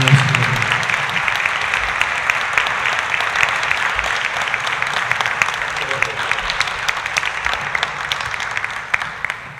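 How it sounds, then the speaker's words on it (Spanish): An audience applauds the poet José María Muñoz Quirós at a poetry reading at La Milarca, with steady, dense clapping that holds loud and close for the whole stretch. "Le pido a todos un aplauso para el maestro"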